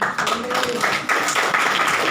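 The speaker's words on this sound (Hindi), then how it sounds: "प्रभु के लिए ताली बजाएं।" A church congregation claps together in steady, fast applause, a loud dense patter that fills the room without a break.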